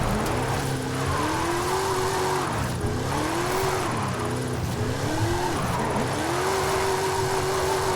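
A car drifting through a drift zone in a racing video game, with a steady engine drone that rises and falls in pitch and continuous tire squeal across the run, and no talking.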